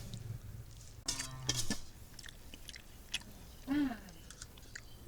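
Close, quiet chewing and crunching as a meal of starfruit curry with pumpkin flower fritters is eaten, with a few soft mouth sounds and a brief hum.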